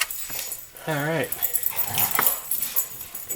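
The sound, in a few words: dogs barking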